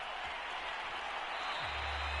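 Stadium crowd roar from a Madden 22 NFL game, a steady broad wash of cheering holding throughout, with low rumbling thumps underneath.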